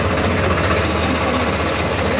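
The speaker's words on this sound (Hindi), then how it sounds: "तो देख लो स्वराज की 855 की आवाज़ सुन लो" A Swaraj 855 tractor engine runs steadily at close range, a dense, loud diesel rumble with a knocking idle and no speech over it.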